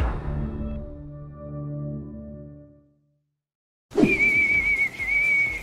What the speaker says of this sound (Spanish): ¿Por qué crees que silbarle al puto micrófono está chido?